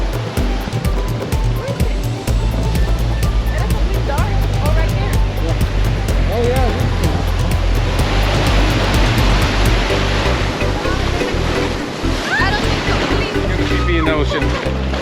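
Atlantic ocean waves and surf at Daytona Beach, Florida: loud, continuous broadband rush of breaking water with low rumble, close, with some voices faintly mixed in.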